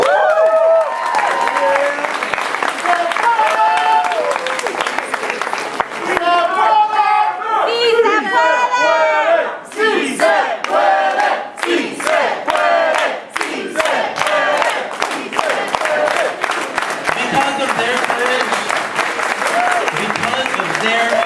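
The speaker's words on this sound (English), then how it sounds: "Give a big round of applause." Large crowd applause and cheering at a community civic event, the People's State of the City in Long Beach, loud and sustained with dense clapping, shouts and whoops swelling throughout.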